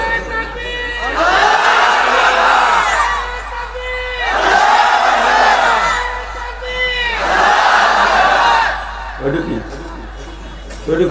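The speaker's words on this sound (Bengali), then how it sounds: "তাকবীর খাড়াই করে দেন, খাড়ানো তাকবীর।" A large crowd at a Bangladeshi Islamic waz sermon shouts takbir in three long, loud, swelling unison cries with short gaps between them, ending with a brief quieter stretch.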